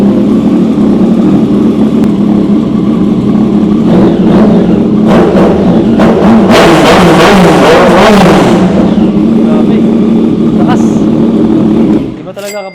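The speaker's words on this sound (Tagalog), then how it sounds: "sound check na rin natin, 900cc 3-cylinder cross plane" A 2023 Yamaha XSR900 Gen 2 with a 900cc three-cylinder crossplane engine and aftermarket full-system exhaust idles loudly up close, then revs hard in several sharp blips before settling back, with people talking nearby.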